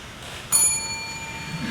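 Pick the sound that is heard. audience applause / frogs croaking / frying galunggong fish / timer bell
timer bell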